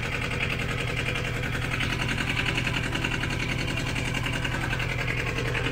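A car engine, running after a lead-acid to LiFePO4 lithium battery conversion, idles in a steady, close, even drone with a fine rhythmic pulse and no other sounds.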